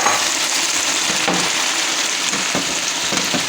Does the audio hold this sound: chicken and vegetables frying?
yes